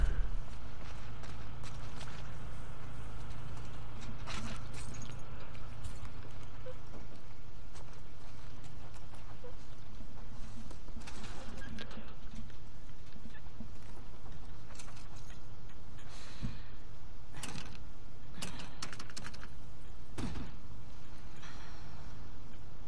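Hooves clop at a steady walking pace over a constant low rumble, with no voices; a horse walking in the video game The Last of Us Part II.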